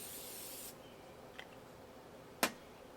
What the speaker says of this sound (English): I'm just gonna spray it down with some Tam.